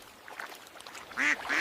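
A couple of short, nasal cartoon duck quacks sound near the end, after a quiet stretch with faint chirpy noises.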